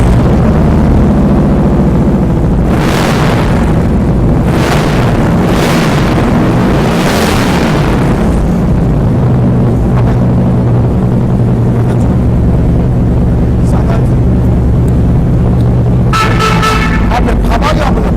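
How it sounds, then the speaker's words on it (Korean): A Harley-Davidson CVO Ultra Classic motorcycle engine starts and runs with a loud, constant low rumble and a few sharp throttle blips. People talk over it. "자, 시동 한번 걸어보시겠습니다."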